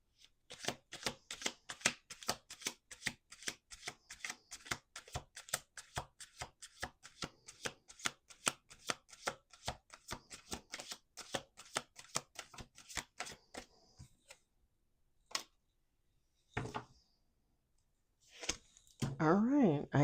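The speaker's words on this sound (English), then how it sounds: "Last shuffle." A deck of cards riffled and shuffled repeatedly in rapid, crisp flutters, close up, followed by a few sharp taps and a short spoken phrase near the end.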